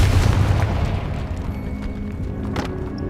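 A Confringo fire spell explodes in Hogwarts Legacy, a deep booming blast at the start that rumbles and fades into a low, sustained roar, with no voices.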